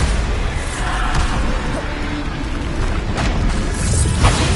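A Bombarda spell blast in Hogwarts Legacy, a loud, broad booming rumble that fills the whole stretch with no clear break, close and heavy.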